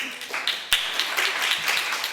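Audience at the closing of a Permanent Peoples' Tribunal hearing in Berlin clapping together, a steady patter of many hands with a sharper clap standing out, moderately loud and continuous over a short stretch.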